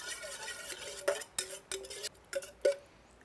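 A utensil scrapes and clinks against a bowl while fish sauce is mixed into Thai laab, giving a few separate strokes over a quiet background.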